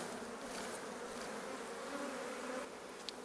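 Honeybees being shaken from frames into a top bar hive, a steady, dense buzz from many bees close by, holding level before easing slightly near the end, with no talk.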